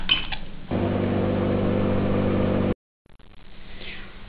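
A microwave oven runs on high power while heating ground onion and garlic for pav bhaji, giving a steady loud hum with a mechanical drone. It stops abruptly, a moment of silence follows, then fainter kitchen noise resumes.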